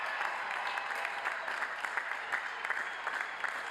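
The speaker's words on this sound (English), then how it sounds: "give these graduates a big round of applause" Crowd in the stands of a spring university commencement applauding graduates, a steady wash of distant, fairly quiet clapping from a large audience, with no voices.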